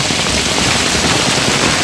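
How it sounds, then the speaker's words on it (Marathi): Heavy rain pours down in Mumbai, a steady dense hiss that fills the whole clip at close range and stays loud throughout, with no speech over it. "पाऊस बघा केवढा डेंजर पाऊस आहे"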